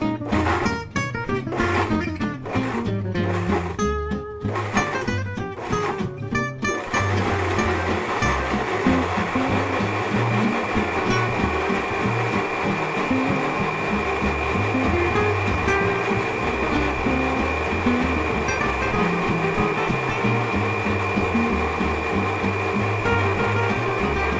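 Kitchen blender pulsing basil, garlic cloves and olive oil for a pimiento garlic pasta sauce, starting with several short bursts and then running as one loud, steady whir.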